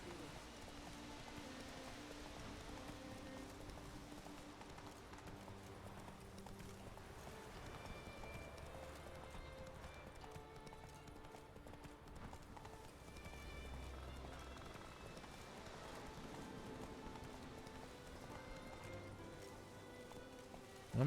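Roach, a horse in The Witcher 3, gallops with steady rhythmic hoofbeats that run the whole stretch, moderately loud under a dense mix of game ambience and music.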